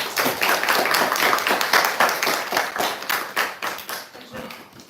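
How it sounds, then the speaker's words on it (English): Clapping from a lecture audience, a quick irregular patter of many hands that holds steady before gradually thinning out, fairly close and with no talk over it. "I think applause is in order."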